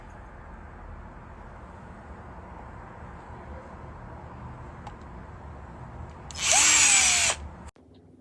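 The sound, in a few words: power drill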